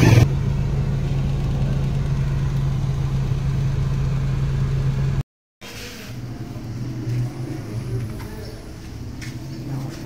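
An engine running steadily with a low idling hum outdoors in a 2022 flood-affected area of Khyber Pakhtunkhwa, Pakistan; after a brief dropout the engine is quieter and mixed with outdoor background noise.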